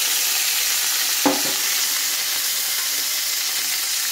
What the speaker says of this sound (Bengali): দিয়ে ভালো করে ভেজে নেব